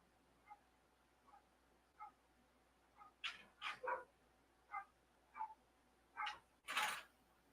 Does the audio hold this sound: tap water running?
no